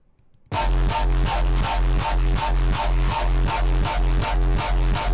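A heavily saturated kick drum, pushed through a second saturator in Ableton, thumps in a fast, even loop after a brief quiet start, each hit a loud, distorted, punchy burst with a dense gritty tail.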